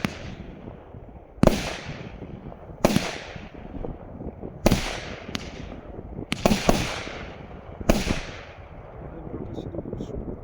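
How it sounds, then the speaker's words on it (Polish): A Klasek Brocade War C8825BR fireworks cake, 88 shots of 25 mm calibre, sets off a string of loud salute bangs about one to two seconds apart. Each report has a crackling tail, and a faint voice can be heard in the background. "no te salutki też dosyć głośne"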